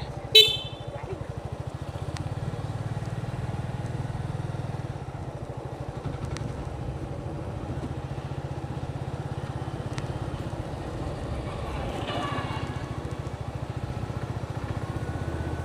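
A motorcycle on a road trip through the Sylhet countryside, its engine droning steadily up close for the whole ride, with a sharp horn blast at the start and more honks from passing traffic.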